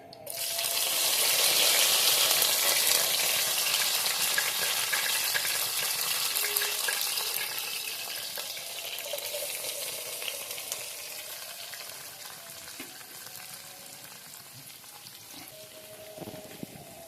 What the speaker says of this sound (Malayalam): ഇപ്പം നമ്മൾ കറിവേപ്പിലയും ഉള്ളിയും ഇട്ട് ഒന്ന് കായുന്നുണ്ട്